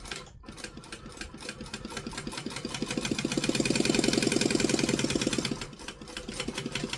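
A sewing machine stitches forward and then back on a kangaroo sewing project, a close, steady rapid whirring clatter that speeds up and swells in the middle before slowing, with no talking.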